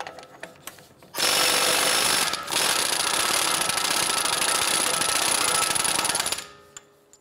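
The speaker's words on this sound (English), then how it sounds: "Using a 35 millimeter socket, we're gonna go ahead and remove our axle nut." An impact wrench with a 35 mm socket removes the axle nut on a 2011-2018 Ram 1500 steering knuckle: a loud continuous hammering whir for about five seconds with one brief pause, near and alone.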